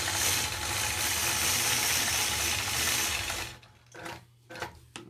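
A quilting sewing machine stitches a feather motif along a ruler, running steadily and loudly for about three and a half seconds, then stopping and giving a few short bursts of stitching with brief pauses, no talk.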